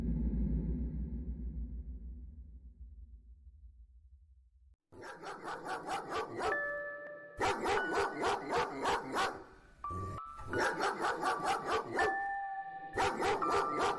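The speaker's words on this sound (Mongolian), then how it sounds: "Хашааны гадаа нохоо очир зүггүй боргон хуцна." A dog barks repeatedly outside a fence at night in a dark drama scene, loud and close, with rapid bursts of yapping barks and short pauses between them, following a low rumbling hum.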